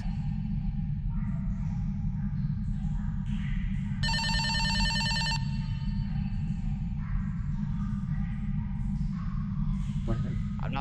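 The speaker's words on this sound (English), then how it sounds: "I'm not picking up that phone call." A telephone rings in a Backrooms-style video game, a bright, evenly pulsing electronic ring lasting over a second against a constant low droning hum, with people talking around it.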